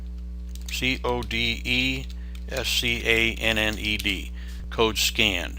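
Computer keyboard typing while tag names are entered in RSLogix 5000 PLC programming software; close keystrokes tap along under a voice as he spells out letters, with a steady electrical hum beneath.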